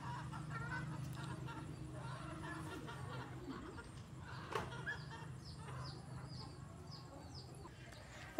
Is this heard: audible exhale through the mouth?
no